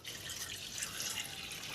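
Water splashed onto an ancient rock painting of a seated Buddha at Ghurahupur gives a steady, soft hiss of spattering liquid that lasts the whole moment, close by and with no voices.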